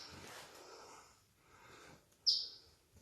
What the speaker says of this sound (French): Oh, un oiseau.